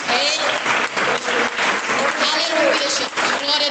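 Church congregation clapping in steady rhythmic bursts throughout, loud and close, with voices mixed in over the applause.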